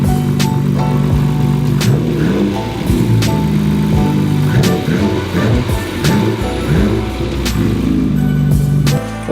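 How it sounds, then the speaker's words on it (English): A Nissan Skyline R32 engine idles close by and is revved in sharp bursts, with a rough, uneven throb between the rises and no talking over it. "I'll give you guys a quick rev."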